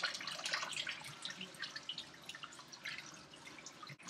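Canned kidney beans being rinsed under running tap water in a sink: a steady hiss of flowing water and splashing throughout, fairly quiet and close, with no talking.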